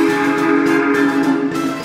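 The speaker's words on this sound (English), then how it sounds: "a ghostly whistle sounded out" A long, eerie video game train whistle holds one steady, hollow tone for about two seconds, loud and unbroken, with no voices.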